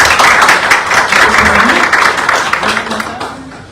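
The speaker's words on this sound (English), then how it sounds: "Give a round of applause." An audience claps at an entrepreneurship challenge event, a loud dense round of applause with cheering voices mixed in, fading slightly toward the end.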